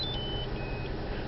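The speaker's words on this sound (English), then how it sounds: "Buzzer tone." Taxi device emitting a thin, high buzzer beep, two short tones in quick succession over a steady background rumble of the cab, with no talking.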